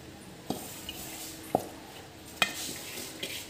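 A spoon stirs dal with drumstick leaves, pepper, cumin and garlic in a clay pot, giving three soft scraping knocks against the pot over a low background hiss.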